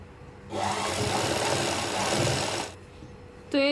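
A sewing machine stitches the waistband of a pair of trousers in one sustained, loud whirring run of about two seconds that then stops, followed by a brief click and a short tonal sound.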